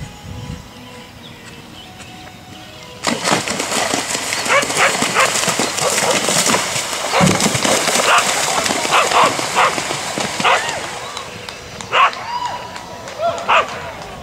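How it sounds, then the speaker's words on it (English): A dog at a horse-jumping event barks repeatedly and excitedly, in close bursts over a busy background with what may be hoofbeats and voices talking. "I think that dog is going to bark for every fence."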